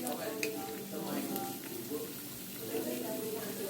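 Batter-coated Oreos frying in hot oil, a steady, soft sizzle and crackle heard fairly close throughout, with faint talk and occasional small clinks in the background.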